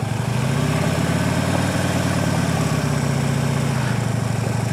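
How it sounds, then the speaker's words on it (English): Motorcycle engine running steadily in the clutch friction zone, a loud, continuous low rumble held at even throttle throughout, with no speech over it. "I'll throttle up so you can hear it better"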